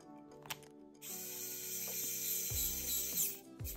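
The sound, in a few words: small electric screwdriver on RC crawler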